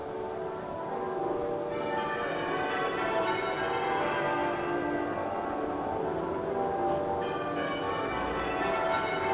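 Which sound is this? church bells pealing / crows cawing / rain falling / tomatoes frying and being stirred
church bells pealing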